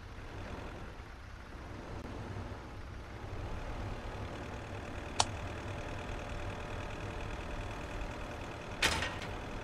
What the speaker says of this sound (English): The first time I'm driving a damn truck.